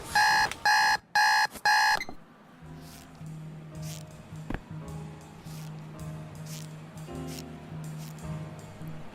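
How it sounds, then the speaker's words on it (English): A loud electronic alarm clock beeps in rapid bursts for about two seconds, then stops, leaving a quieter room with a low hum and faint rustling. "First time I'd gotten up for the alarm in weeks"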